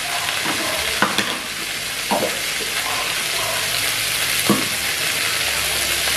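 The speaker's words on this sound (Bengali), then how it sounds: "এর মধ্যে পোস্ত আর কাঁচা লঙ্কাটা দিয়ে দিলাম।" Ground poppy seed and green chili paste stir-fried in a pan, a steady loud sizzle with occasional scraping stirs of a spatula, close and continuous without speech.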